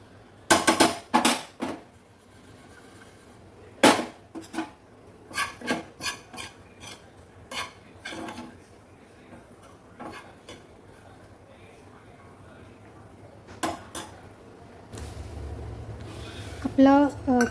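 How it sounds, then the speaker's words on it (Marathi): Grated coconut roasting brown in a pan is stirred and scraped with a spatula, producing irregular bursts of rasping, scratchy strokes with pauses between, close up, and a low hum toward the end. "अजून एक मिनटं मी परतणार आहे"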